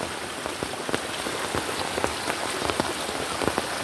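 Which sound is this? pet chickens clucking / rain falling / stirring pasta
rain falling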